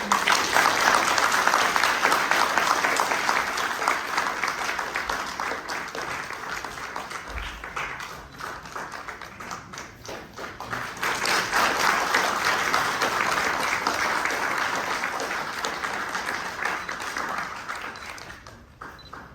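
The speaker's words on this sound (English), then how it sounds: "A huge round of applause." A large audience at an opening ceremony breaks into sustained applause, loud dense clapping that dips midway, swells again and then fades toward the end.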